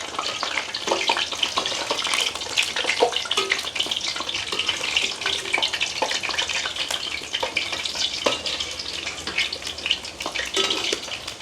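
Wheat flour vada fry in hot oil with a dense, steady bubbling sizzle, sprinkled with sharp little pops and crackles throughout and no voices.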